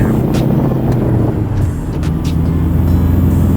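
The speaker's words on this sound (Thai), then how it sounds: "คันเร่งนี่คือมิดสุดๆนะครับ" A stock Toyota Tiger pickup's engine drones loud and steady with the throttle floored, a low continuous roar heard from inside with road rumble and a brief dip in level.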